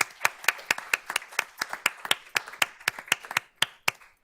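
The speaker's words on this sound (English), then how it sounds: "So let's give them a round of applause" Sparse applause at a board of trustees meeting honoring three board members; a few distinct, close hand claps in an uneven rhythm, about five per second, with quiet gaps between them and no voices.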